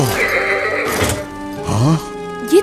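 A horse whinnies in a dramatic drama scene, with a long rising-and-falling neigh followed by a short snort, heard close and loud over background score.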